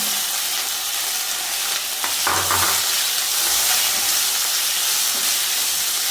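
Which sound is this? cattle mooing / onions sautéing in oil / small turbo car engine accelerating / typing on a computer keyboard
onions sautéing in oil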